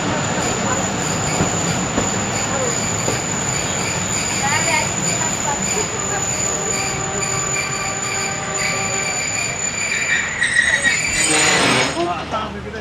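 A train passes on the main line, rumbling and clattering steadily throughout, with wheel squeal and a tonal whistle from locomotive 6429 rising near the end, under occasional speech.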